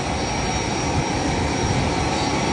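Inside a jet airplane cabin, the engines give a constant broadband roar with a steady whine, loud and unbroken, with no voices over it.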